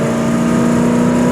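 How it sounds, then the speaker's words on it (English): A 1967 Chevy Camaro V8 with a four-barrel carburetor pulls at highway speed, its engine a steady, loud, continuous drone with road and wind noise blended in, no voices over it. "Love the sound of that 4-barrel."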